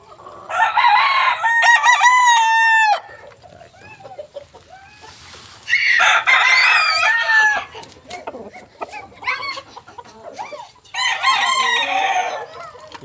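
A gray gamecock rooster crows in loud, repeated bursts, three long crows spaced through the stretch with clucking and other fowl calls between them, close by in a farmyard.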